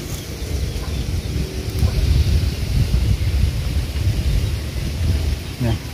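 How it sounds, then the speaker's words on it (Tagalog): Wind rushes steadily over a cornfield with stalks bending, a constant blustery roar and rustle lasting throughout. "Iba-iba yung hiip ng hangin no?"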